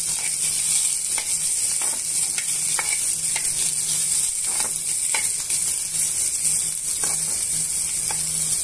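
Tamarind and dried red chillies fry in a pan for dosa chutney, a constant hiss of oil broken by regular scraping stirs of a spatula, close and fairly loud with no speech.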